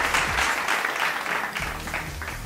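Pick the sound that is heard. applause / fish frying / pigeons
applause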